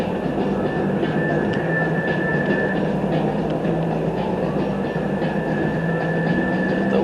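Las Vegas Monorail train running steadily, a loud continuous rumble with a faint whine and light clatter, close and unbroken, with no talk.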